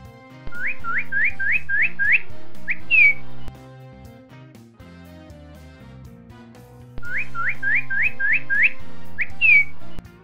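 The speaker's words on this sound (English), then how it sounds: "Bird." A bird chirps in two quick runs of rising tweets ending in a higher call, bright and close over soft background music, repeated after a musical pause.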